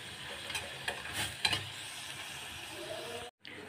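Garlic and coriander for Egyptian tasha sizzle in fat as a steady hiss, with a few louder stirring scrapes and pops near the start and a brief drop-out toward the end.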